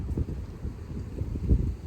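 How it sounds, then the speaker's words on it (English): Blustery wind buffets the microphone in low, rumbling gusts that rise and fall throughout, with no voices. "Nice and windy here today."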